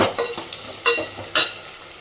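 Onions and tomatoes fry in a pan for a Tamil fish curry, heard as a steady sizzle broken by a few sharp scraping strokes of stirring, close and alone.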